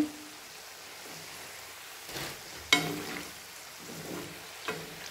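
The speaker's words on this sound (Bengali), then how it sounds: "এগুলো এখন লো আছে গোল্ডেন ব্রাউন করে ভেজে নিতে হবে" Pitha made from egg and flour fries in oil over low heat, giving a faint, steady sizzle with a few soft pops and stirring clinks. No one speaks.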